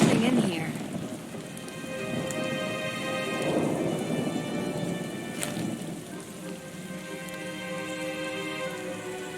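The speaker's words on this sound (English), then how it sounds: "Man, this storm's bad." Steady rain pours in a thunderstorm in the PC mystery game Nancy Drew: Midnight in Salem, with thunder rumbling in the background and heavy rainfall continuous throughout, fairly quiet overall.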